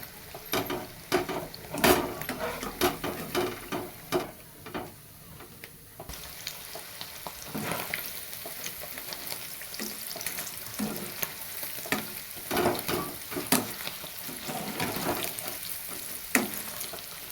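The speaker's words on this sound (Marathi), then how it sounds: "हे असं सगळं तळून घ्यायचं ह्या पद्धतीनं मी दुसरे पण असेच तळून घेणार आहे" Mandeli fish fry in a pan with a continuous close sizzle, broken by scattered clatters and stirring knocks, with splashy water-like sounds in the first few seconds and no talk.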